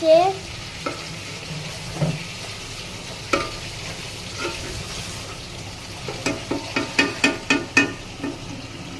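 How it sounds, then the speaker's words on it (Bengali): Food being stirred in a sizzling frying pan on a home stove, with scraping spoon strokes that come faster and more rhythmic toward the end, close and fairly loud, with no talking. "এই যে মা লাড়িয়ে নিচ্ছে"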